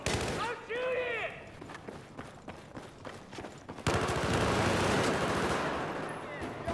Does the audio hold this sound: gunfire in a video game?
yes